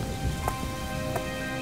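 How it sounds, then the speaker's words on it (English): Steady rain pattering on a surface in an animated kids' cartoon, a continuous close wash of drops with a couple of brief brighter splashes. "the rain ruined my drawing"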